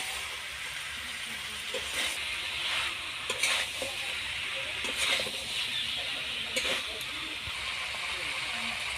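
Jackfruit curry is sautéed in a pan, giving a constant close hiss of frying. Periodic scraping stirs of the spatula rise above the sizzle every second or two.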